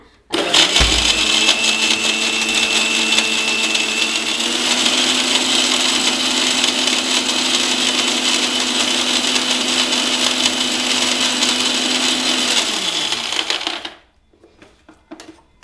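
An electric mixer grinder whirs steadily for about thirteen seconds, blending appam batter with jaggery, then the motor winds down and stops, leaving quiet.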